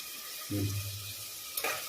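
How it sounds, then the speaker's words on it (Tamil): Onions and slit green chillies drop into hot oil with whole spices for egg pulao, setting off a brief low thud followed by a close, lively sizzle and a quick stirring scrape. "2 வெங்காயம் கட் பண்ணி வச்சிருக்கேன், அதையும் ஆட் பண்ணிக்கிறேன்."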